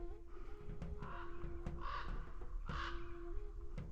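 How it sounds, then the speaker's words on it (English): A raven calls outdoors with several hoarse, croaking caws spaced about a second apart, moderately near and heard alone over faint background hiss. "raven's trying to tell me something."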